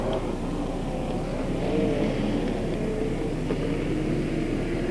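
UMP modified race cars roar off together at the start of a 1994 race at Beckley Motor Speedway, a steady, distant engine drone under faint background noise.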